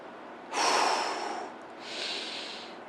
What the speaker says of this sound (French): La respiration est profonde.